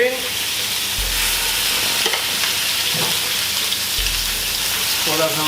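Steady, loud crackling sizzle of chicken frying in smoking-hot oil in a pan, a dense hiss running throughout with a few brief scraping stirs.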